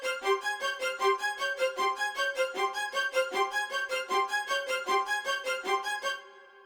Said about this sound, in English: And then I added a violin and a viola, and they basically play their own version of that arpeggiated melody.